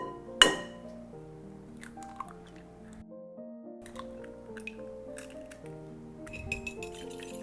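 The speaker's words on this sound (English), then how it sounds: "let's add our remaining 4 eggs to this bowl" Four eggs are cracked into a bowl for a bacon and cheese quiche custard: a sharp crack and clink of shell on glass, then soft wet plops and squishy drips, quiet and close.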